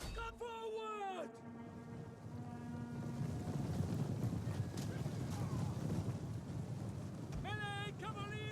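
Cavalry horses in the video game Total War: Rome 2 clip-clop steadily and continuously under game noise, with short spoken unit acknowledgements at the start and end.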